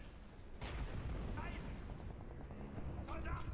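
Grenade explosions in the video game War Mongrels, a few sharp booming blasts with rumbling debris, one near the start and another toward the end, mixed with game sounds.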